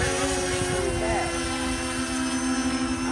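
An E-Flite Convergence VTOL model aircraft flies in multi-rotor mode, its electric motors and propellers giving a steady high whine and buzz passing at moderate distance, with outdoor wind noise behind.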